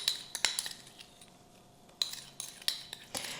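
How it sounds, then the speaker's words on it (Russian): A spoon stirs baking soda and vinegar in a small dish for an anthill cake dessert, giving light, close clinks and scrapes against the dish in quick irregular bursts. "Перемешиваем, добавляем в нашу массу."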